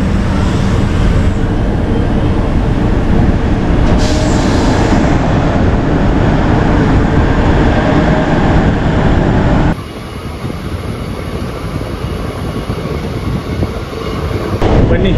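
A train pulls away from the Kempegowda International Airport halt, a loud, steady rumble of wheels and carriage noise heard from on board, continuous throughout, with a sudden drop in level partway through and no clear talking.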